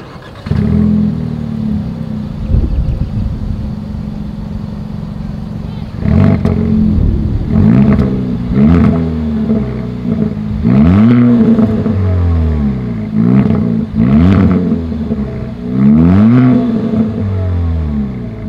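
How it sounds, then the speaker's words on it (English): A 2020 Kia Forte GT's exhaust revs hard in repeated rising and falling bursts after a steady idle, loud and close. "Here is that exhaust clip."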